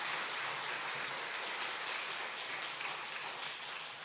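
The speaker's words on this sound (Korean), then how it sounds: "예, 박수해 주세요." A church congregation claps during a Sunday afternoon service, producing a dense, steady patter of applause that holds evenly throughout without pause.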